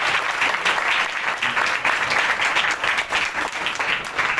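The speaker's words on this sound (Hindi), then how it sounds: "खुशी के साथ ताली बजाएंगे सभी लोग" A church congregation clapping together during a Sunday service, dense continuous applause from many hands filling the room, steady and fairly loud throughout with a slight irregular pulse.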